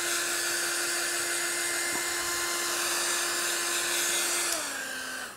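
A hair dryer blows steadily on a wet watercolour painting, a loud constant whine that holds its pitch before dropping slightly near the end as it winds down.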